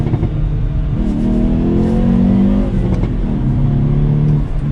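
A 2022 Hyundai Veloster N engine revs up loud and close, its exhaust droning with a rising and falling tone and a few faint crackles.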